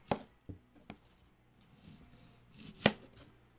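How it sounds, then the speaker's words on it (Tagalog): A few sharp, sparse knife chops through onion on a cutting board, four distinct hits spaced over several seconds in a quiet kitchen, prepared for oyster mushroom and ground pork lumpia. "Guys, pinabilog ko para mas mabilis tadtadin."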